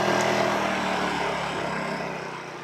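A WEN 56235i 2350-watt inverter generator runs steadily at close range during its first startup and burn-in, a continuous engine drone with no one talking.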